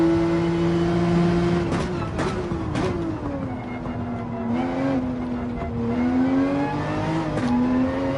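A Porsche 911 engine in Gran Turismo 7, revving and dropping through gear changes with brief clicks at each shift, then pulling back up under throttle, loud and close as an in-car engine drone.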